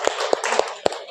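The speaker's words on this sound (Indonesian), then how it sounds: "Beri tepuk tangan untuk Mas Yusuf." Several sharp claps ring out in a classroom, four or five distinct hand-claps spaced unevenly over a roomy background, applauding a student.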